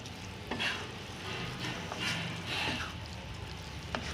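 Lemon juice being stirred into frying masala chips in a pan, soft scraping strokes of a utensil over a low continuous sizzle, quiet and close, with a couple of sharper clicks.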